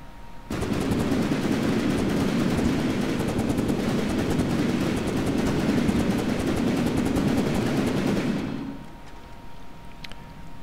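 A simple weapon in From The Depths fires a long continuous burst, a loud dense rattle of rapid shots lasting about eight seconds before cutting off, followed by quieter game ambience.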